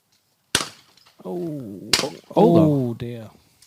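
Shotgun firing at clay targets during a sporting clays shoot-off at the CPSA British Open Super Final, with two sharp, close reports about a second and a half apart, each followed by people talking.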